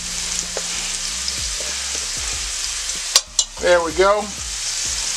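Minced garlic and onions frying in a pan for teriyaki mushroom pork chops, a steady close sizzle throughout, briefly interrupted by stirring clatter and a short spoken remark.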